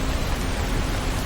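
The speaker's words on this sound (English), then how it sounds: "the rain patters against cobblestones" Steady, dense rain hiss with constant pattering on cobblestones, uniform and unbroken for the whole moment.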